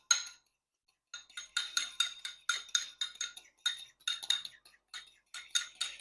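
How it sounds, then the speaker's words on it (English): Egg yolk and a spoonful of cream are beaten in a bowl for egg wash. Quick, rhythmic clinks of a utensil against the dish come in steady bursts after a short pause, close and bright. "And we're just going to beat that together."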